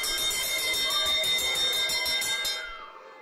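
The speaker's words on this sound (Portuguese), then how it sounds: "tinha um sino antigo de quando os alunos eram chamados para o recreio" An old school bell that once called pupils to recess rings in quick repeated strokes, bright and loud, then stops and fades into a short decay.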